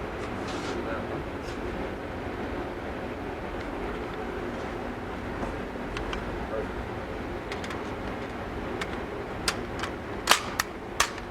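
Gunshots at the Scottsdale Gun Club shooting range: a few sharp, distinct cracks near the end, heard over people talking and a steady room hum.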